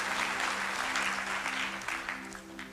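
A church congregation applauds during a sermon, a sustained wash of many hands clapping at moderate volume over a steady low tonal hum, tapering slightly toward the end.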